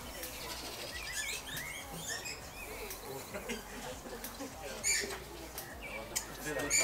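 Busy bird chirps and tweets fill a walk-through zoo aviary, with many small calls overlapping at moderate distance amid rustling and crowd murmur.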